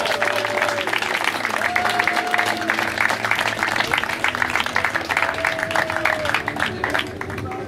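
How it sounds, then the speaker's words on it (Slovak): Audience applause at an award ceremony for the PRENGO CUP 2013 tournament: dense, sustained clapping from a crowd, loud and continuous throughout with a faint tone over it. "jeden obrovský veľký potlesk Martinovi Michalíkovi"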